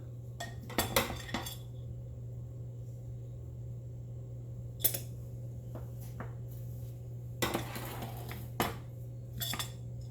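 A spoon scrapes and clinks against a bowl while peppers are stuffed in a home kitchen, with a few sharp isolated clinks spread out over a steady low hum, with no talking.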